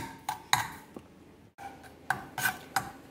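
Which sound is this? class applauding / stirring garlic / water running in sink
stirring garlic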